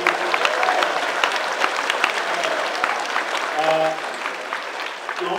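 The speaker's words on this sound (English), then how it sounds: "big round of applause here" Steady applause from a convention Q&A audience fills the room, with scattered voices and cheers mixed in throughout.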